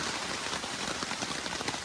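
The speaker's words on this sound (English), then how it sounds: "lunchtime downpour." Heavy lunchtime rain pouring down in a steady, dense hiss, drops drumming continuously on surfaces with no letup, in Georgia.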